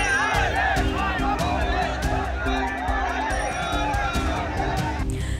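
A huge, dense crowd of Shiva devotees packs Mahakal temple in Ujjain, their shouting and chanting forming a loud, continuous roar with bells ringing sharply above it throughout.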